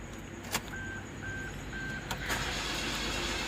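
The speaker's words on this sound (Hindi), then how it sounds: "इस जगह पे मैं सेल्फ लगा रहा हूँ" A car's starter motor cranks an engine that won't start because of a crank and camshaft sensor fault with no spark; a steady whirring drone runs for several seconds, broken by a few sharp clicks, with no one talking.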